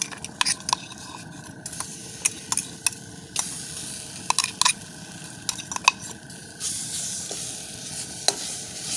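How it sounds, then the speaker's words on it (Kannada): Ground ginger paste frying in butter in a pan for ginger candy: a steady close sizzle, punctuated by sharp spatula clicks and scrapes, with the hiss swelling louder toward the end. "ನಾನು ಗ್ರೈಂಡ್ ಮಾಡಿ ತಗೊಂಡಿರುವಂತಹ ಶುಂಠಿ ಪೇಸ್ಟನ್ನು ಈ ಬಣ್ಣೆಲ್ಲಿಗೆ ಹಾಕಿಲ್ತಿದ್ದೇನೆ."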